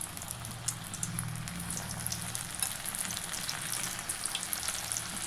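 Spiced bitter gourd (karela) fries in hot oil in a kadhai, a dense, steady crackling sizzle with fine popping throughout, close and continuous, with no talking.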